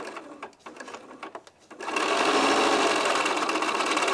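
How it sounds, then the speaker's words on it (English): A sewing machine chain piecing quilt blocks: a few taps and fabric handling, then the motor starts and runs a fast, steady stitching whir at close range, with no one speaking. "And I'm going to sew all of them at the same time."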